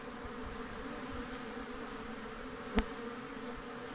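Honeybees buzzing around hives on a sunny spring day, a steady faint insect drone throughout with one brief click near the end.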